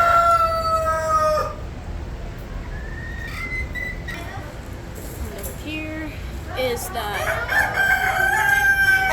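A bantam rooster crows amid the noisy bird barn at a county fair, with other fowl calling and clucking around it and people talking nearby over a steady crowd murmur.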